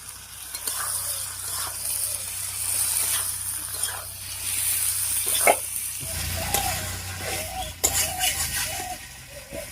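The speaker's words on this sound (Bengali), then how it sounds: "সব সবজিগুলো মশলার সঙ্গে ভালো করে কষতে থাকুন।" Vegetables and prawns sautéing with coriander and cumin powder in a pan, with steady close sizzling and frying all the way through and intermittent scraping stirs. The sizzle sharpens and grows louder in the second half, presumably after a splash of water.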